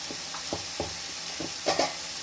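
Soya chunk gravy ingredients with salt and turmeric sauté in a pan, a soft sizzling hiss broken by several low knocks and scrapes of stirring, close and fairly quiet.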